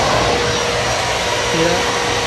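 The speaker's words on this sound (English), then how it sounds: "now you can turn it on and it's gonna blow air out of it" A Masterforce vacuum set to blow air out roars in a loud, steady whoosh that holds constant throughout, with no talking.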